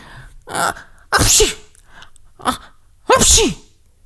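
Several sneezes in a row, sharp bursts separated by short pauses, close and loud, the last one the strongest.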